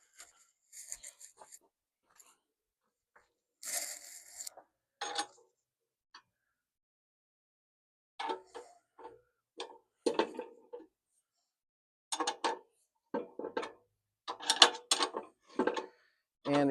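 A wrench works a bolt off the seat of a Farmall C tractor, giving intermittent close metallic clicks and ratcheting bursts separated by silent pauses.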